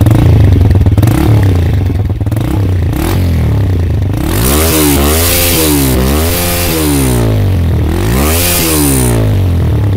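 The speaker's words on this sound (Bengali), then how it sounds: "এটা এক্সস্টের সাউন্ডটা আমি আপনাদের একটু শোনানোর চেষ্টা করি।" A TVS Raider 125 cc motorcycle revs close to the microphone, its exhaust rising and falling in repeated throttle blips over a steady idle, loud and alone.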